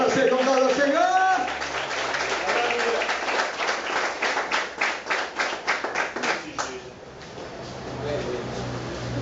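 Church congregation applause at a Portuguese-language sermon begins after a preacher's amplified voice, turning into rhythmic unison clapping in a steady beat for several seconds before fading into quieter murmur.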